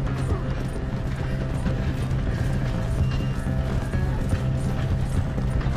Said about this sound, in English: Bora, cavalo, correndo.